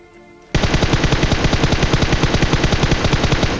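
Rapid automatic gunfire from a video game shooter bursts in suddenly after a quiet moment, then rattles on loud and continuous in even, fast shots to the end.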